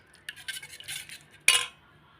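Bombay halwa mixture being stirred in a metal pan, a spoon scraping and clinking in several quick strokes before one louder clatter against the pan, close and without speech.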